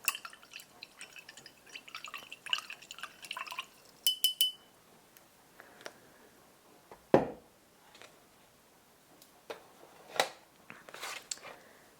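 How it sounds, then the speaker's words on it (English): A watercolour paintbrush is rinsed in a jar of water, giving faint, quiet drips, swishes and small glassy clinks in near silence. "I will give my brush a little rinse"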